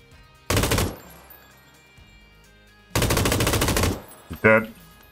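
Automatic gunfire from PlayerUnknown's Battlegrounds comes in two loud rapid bursts, the second longer, followed by a couple of sharp single reports, with quiet gaps in between.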